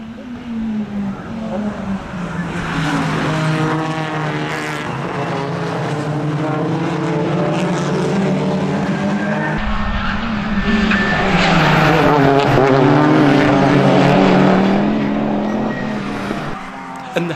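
Race cars, a Porsche among them, pull away at the start of a high-speed circuit race at Colmar-Berg, a loud continuous engine roar with shifting pitch that swells toward the end, with faint speech in places.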